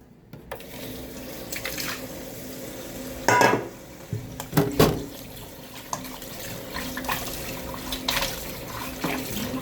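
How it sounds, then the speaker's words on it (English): Running tap water splashes steadily in a sink while goat meat is washed in a bowl, with a few clattering knocks of the bowl and wet handling noises close by. "now I will wash this meat. I'll wash it until the water comes out clear."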